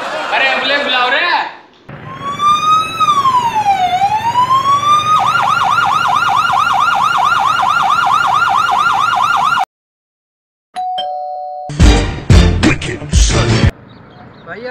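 A loud ambulance siren wails close by, first sweeping up and down in long glides, then switching to a rapid warbling yelp, before cutting out and giving way to other clattering noise.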